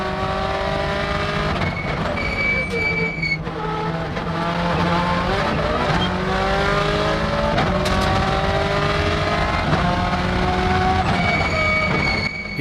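On-board engine of Richard Burns's 2000 Subaru Impreza WRC rally car at speed, loud and continuous with repeated gear shifts, rising and falling revs and turbo whistle, no talking.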